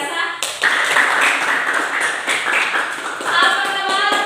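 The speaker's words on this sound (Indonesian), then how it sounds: "Tepuk tangan yang luar biasa." A church congregation claps together after a children's assessment, a dense, fairly loud round of applause with some voices mixed in, swelling again near the end.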